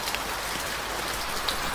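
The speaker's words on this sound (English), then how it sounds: "Each summer, monsoons bring ample rains, vital for growing rice." Heavy monsoon rain falls steadily, a dense even hiss of drops on surfaces with occasional brighter spatters, continuous and close throughout.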